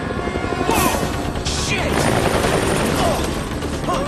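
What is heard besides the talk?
helicopter in Dead Rising video game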